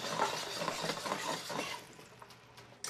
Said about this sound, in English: I'll turn off the heat because I don't really want to cook, and I'll just kind of swirl the pan